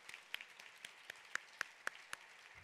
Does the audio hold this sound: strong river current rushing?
no